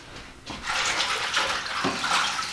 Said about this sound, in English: Go ahead and give them a nice rinse.